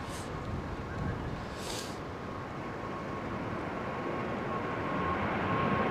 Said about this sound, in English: That's Emirates 777 freighter.